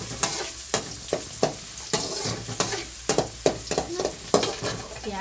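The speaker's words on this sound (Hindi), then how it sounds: "प्याज के हम भूनने देते हैं" Onions frying with spices in a pan, a close sizzle punctuated by brisk, regular stirring scrapes of the spatula about every half second.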